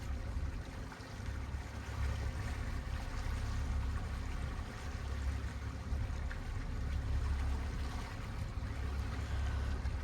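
Steady low engine drone and rushing water from a small boat cruising across the Mediterranean toward the Calanque de Morgiou near Marseille, with continuous wash and no voices.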